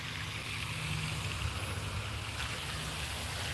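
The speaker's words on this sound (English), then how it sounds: "So if you hear the sound, that's the waterfall." Steady, broadband rushing water from a waterfall in a scenic park, a constant close wash of noise with no talking.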